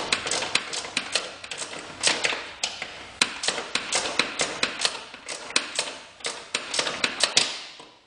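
A wrench working bolts on a 1980 Corvette radiator core support, a quick run of sharp metallic clicks and ticks in uneven bursts, close and fairly crisp, with no voices.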